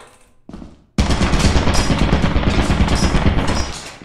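Rapid automatic gunfire in the video game Lethal Company, a loud close burst that erupts after a brief quieter noise and rattles on steadily for about three seconds.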